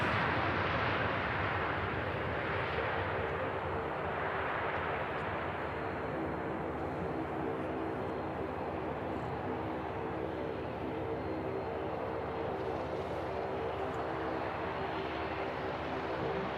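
A Lufthansa Airbus A321 touching down at an airport gives a loud, broad, continuous engine roar that swells and eases slowly over many seconds, heard at a distance with no talk.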